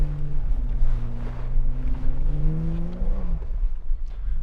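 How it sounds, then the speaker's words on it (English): A Jeep with an extended wheelbase pushing through snow under heavy throttle, its engine droning loudly and steadily with a rising, wavering pitch that holds for several seconds, close and without voices. "I'll give it another solid amount of throttle"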